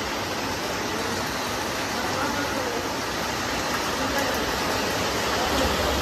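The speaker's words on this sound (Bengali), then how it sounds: "এদিকে বিরাট জোরে বৃষ্টি শুরু হয়ে গেছে" Heavy rain pours steadily, a dense, loud, unbroken hiss with no pauses and no voices.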